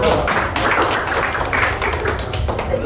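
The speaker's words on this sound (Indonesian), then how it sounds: "Tepuk tangan semua" A room of people at a university book launch claps together in a steady, close patter of hand claps that continues throughout.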